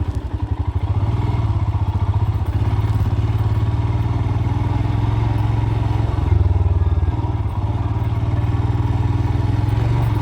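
A Royal Enfield Himalayan motorcycle rides a bumpy road through the Latvian countryside near a town. Its engine thumps steadily and close under a constant rumble, and occasional clatter comes from the rough surface.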